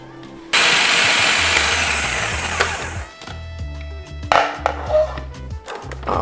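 A food processor pulses mushrooms for a vegan taco filling, with a loud, close motor whir that runs for a few seconds and stops, followed by scraping and clattering.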